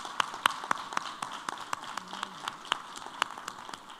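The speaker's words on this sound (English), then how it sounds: "Please give them the biggest round of applause." Audience clapping after a panel discussion on carbon management, a steady run of sharp, moderately close claps in an even rhythm, fairly quiet and with no voices over it.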